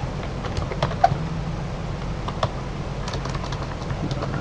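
Fingers typing on a computer keyboard to enter an SQL command, a steady patter of light, close keystrokes with a few sharper taps.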